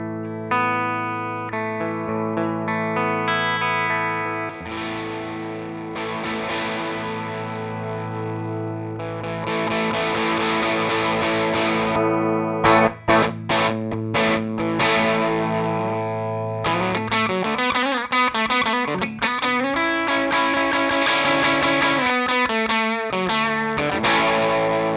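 Electric guitar, a Les Paul, played through a Thermion Engineering pedal in its modern mode, with distorted sustained chords and single notes that shift into faster chugging riffs, loud and continuous with no talk.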